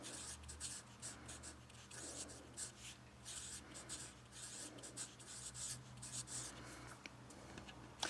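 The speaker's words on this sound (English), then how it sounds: "I'm just going to write GRAV," Pen or pencil writing by hand during a physics lesson, a steady soft scratching and rubbing that continues throughout, fairly quiet and close, with no talking.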